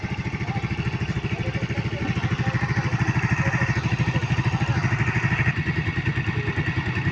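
A Rusi 110 motorcycle idles steadily after finally starting, its single-cylinder engine putting out a close, even, rapid thumping that runs unbroken the whole time at moderate loudness.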